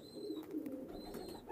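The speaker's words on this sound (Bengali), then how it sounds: "এটা হচ্ছে মিডিয়াম ফ্লাইয়ের কবুতর" Soft, continuous cooing of Pakistani medium-flyer pigeons at a pigeon farm, a low murmuring that runs through the whole moment, with faint higher chirps drifting in the background.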